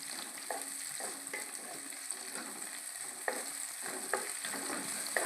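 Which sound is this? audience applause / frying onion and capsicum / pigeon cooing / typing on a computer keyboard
frying onion and capsicum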